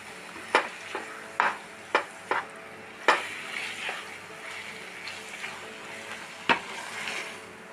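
A thick gram flour sweet is stirred in a pan, with sharp scraping clicks of the spoon against the metal at irregular intervals over a faint background, quiet and close.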